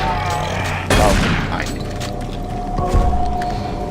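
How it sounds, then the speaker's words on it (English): A shotgun in the video game Lost Missions fires once with a loud, sharp blast and then again later, heard close over constant game background sound. "I use the shotgun one more time to keep an even number of bullets"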